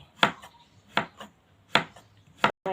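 Four sharp knife chops through pumpkin strike a cutting board at an even, unhurried pace, close and clear with quiet gaps between.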